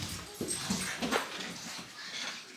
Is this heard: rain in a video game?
no